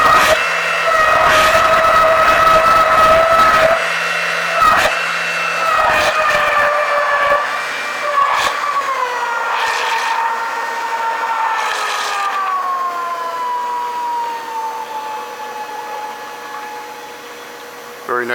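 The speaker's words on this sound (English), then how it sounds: "It's one of the most popular mixer emulsifiers, the Silverson from England." A Silverson L4R laboratory homogenizing mixer whines at maximum speed as a loud, steady high-pitched tone, then its pitch slowly falls as it winds down, with intermittent clicks and a few brief interruptions early on.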